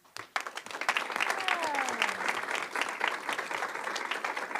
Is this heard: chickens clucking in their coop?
no